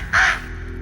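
A voice imitates a crow's caw in a single loud, harsh call lasting about a quarter second, with no talk around it.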